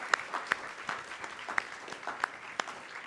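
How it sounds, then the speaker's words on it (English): At a university summer writing program gathering, a small audience claps sparsely, with a handful of distinct sharp claps standing out over a thin, quiet patter of applause. "One more round of applause for MAIREAD and Sarah and Rajiv."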